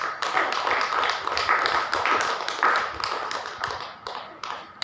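An audience claps together in a hall during a Tamil sermon, a dense, steady patter of many hands at close range that thins and fades slightly toward the end.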